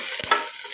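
Chopped large onion sizzles steadily in hot oil while being stirred, a bright continuous frying hiss with a brief scrape of the spoon, close and with no talk.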